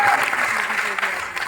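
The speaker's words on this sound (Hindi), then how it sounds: "जोरदार ताली हमारे मनोज जी के लिए दीजिए।" An audience at a stage event applauds for Manoj, a short burst of dense, lively clapping with a voice faintly underneath.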